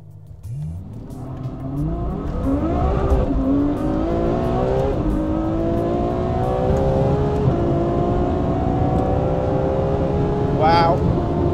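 Ferrari F12 Berlinetta accelerating hard in a drag race against a Porsche 911 Turbo S, its engine note climbing through rising gear sweeps, loud and continuous, with a brief high whine near the end.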